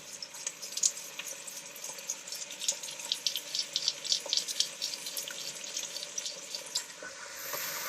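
Pork cheeks sear in a frying pan with a steady, bright, crackling sizzle that spits and pops continuously, close and fairly loud and heard on its own.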